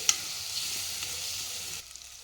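Ginger garlic paste with turmeric fries in hot oil, a steady close sizzle with light stirring scrapes that drops suddenly to a quieter hiss near the end.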